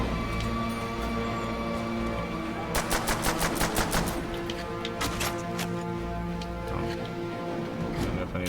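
Rapid gunfire bursts in the Call of Duty zombies map Nacht der Untoten, a loud volley of evenly spaced shots midway, then scattered single cracks over steady game music and ambience.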